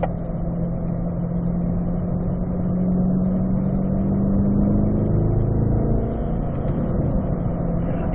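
Race car engine droning steadily on a track during a driving lesson, a loud continuous mid-pitched hum that swells slightly midway without a clear gear change, heard alone without voices.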